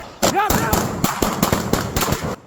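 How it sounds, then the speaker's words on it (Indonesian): A rapid series of sharp gunshots during a police raid on a murder suspect, roughly eight loud cracks at uneven intervals, with a voice shouting briefly near the start. "Letusan tembakan mewarnai penyergapan Ujang Safrudin umur 60 tahun"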